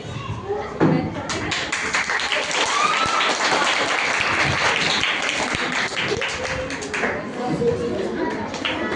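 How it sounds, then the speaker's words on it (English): An audience claps continuously for about nine seconds, loud and close, welcoming a young girl onto the stage at an Independence Day event, with a few scattered voices under the applause. "let's welcome her with a big round of applause"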